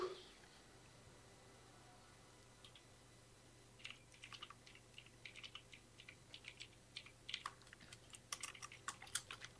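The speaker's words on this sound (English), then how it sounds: "You know every time the Gleeb is in the game because you can hear him typing." Faint keyboard typing comes through during a Dead by Daylight session, with quiet, irregular bursts of key clicks that grow busier over several seconds against a low background hum.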